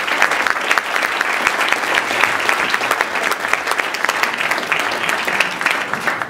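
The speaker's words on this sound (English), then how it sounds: "That was really lame clapping." Audience at a New Jersey tech meetup in Hoboken claps steadily, with dense, continuous applause from a room of people that holds an even level for several seconds before starting to trail off at the end.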